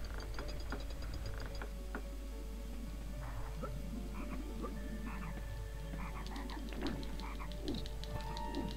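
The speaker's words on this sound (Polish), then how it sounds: "Zniszczmy te żaby." Frogs croak steadily throughout a MediEvil video game scene, their calls layered over a continuous ambient bed with scattered ticking clicks; no talking.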